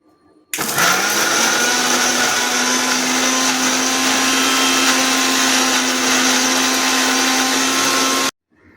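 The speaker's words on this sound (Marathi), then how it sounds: "आता हे आपल्याला मिक्सरला बारीक करून घ्यायचं आहे" A mixer grinder whirs loudly and steadily for about eight seconds, grinding dried Bombay duck fish chutney with chili, coriander and garlic, starting abruptly and cutting off at the end, with no talking.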